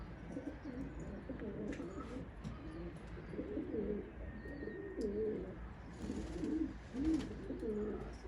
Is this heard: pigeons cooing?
yes